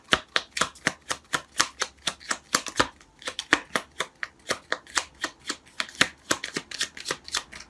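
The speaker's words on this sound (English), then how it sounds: "So while I'm shuffling" A deck of tarot cards is shuffled up close in a quiet room, a crisp run of rapid riffling snaps and slaps in an uneven, continuous rhythm.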